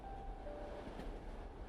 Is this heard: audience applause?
no